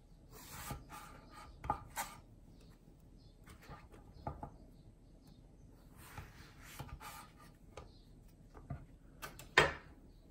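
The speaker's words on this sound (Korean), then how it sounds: "가지 생긴 길이로 잘라서 이렇게 편으로 또 썰어주세요." Knife cutting eggplant lengthwise into flat slices on a board, irregular quiet taps and slicing strokes spaced a second or two apart, with a louder knock near the end.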